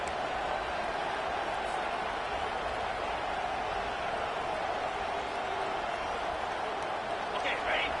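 Stadium crowd in a college football video game, Texas A&M against Texas, a steady broad roar of cheering and noise that holds for the whole stretch, with a commentator's voice talking over it.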